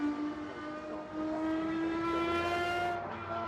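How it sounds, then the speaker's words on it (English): A race car's engine induction roar drawn through a roof scoop, a sustained tonal drone rising steadily in pitch as the car accelerates, heard alone at moderate distance. "what you hear and what everyone really wants to hear is the induction noise"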